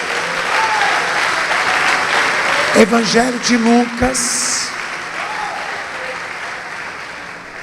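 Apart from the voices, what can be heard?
church congregation applauding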